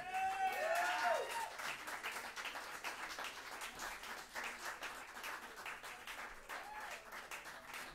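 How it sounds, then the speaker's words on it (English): An audience at a live band performance applauds with steady dense clapping, fairly faint, while a few whistles or cheers sound near the start before the clapping slowly thins. "Please give these guys a big round of applause again"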